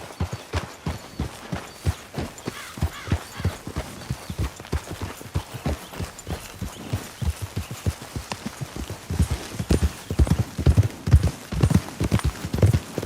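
A horse galloping in Red Dead Redemption 2, rapid rhythmic hoofbeats clip-clopping close and steady throughout, growing slightly louder toward the end.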